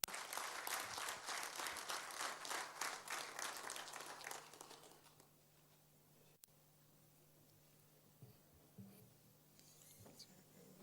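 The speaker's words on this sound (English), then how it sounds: "Please, a huge round of applause for him." A round of applause for a minister at the launch of the Nigerian Upstream Cost Optimization Programme, fairly faint sustained clapping from an audience that fades out after about five seconds, leaving a quiet room with a low hum.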